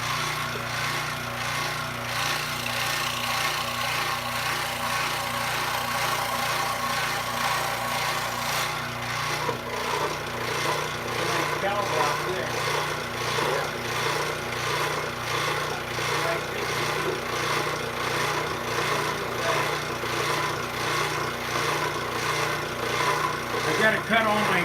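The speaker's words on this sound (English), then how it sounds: "Okay, I'm going to run the jigsaw," Jigsaw cutting wooden parts in a basement workshop, a steady continuous buzzing drone that runs loud and close throughout, with a shift in tone partway through as the blade works the wood.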